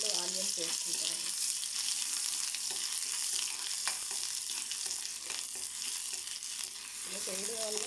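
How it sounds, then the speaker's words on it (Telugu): Ginger garlic paste fries in a pan for a chicken curry, a loud, continuous close sizzle with occasional stirring scrapes, and a voice briefly audible underneath. "ఆనియన్స్ కంటే ముందు కొద్దిగా అల్లం వెల్లుల్లి పేస్ట్ వేసుకుంటాను. వేసుకొని కొద్దిగా ఫ్రై అయ్యాక అప్పుడు ఆనియన్స్ వేసుకుంటానండి."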